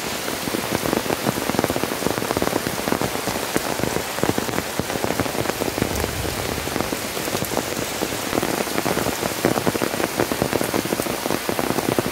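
Heavy rain pours steadily over a village with guava, lemon and betel-nut trees and a brimming canal, a dense, even hiss of drops on surfaces throughout, close and loud with no voices.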